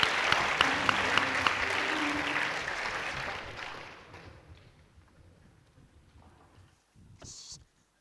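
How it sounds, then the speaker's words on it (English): Loud, dense applause from a game-show studio audience for the contestants and a challenger. It fades over about four seconds into quiet, then a brief rustle follows. "A round of applause then for all of our contestants and our challenger."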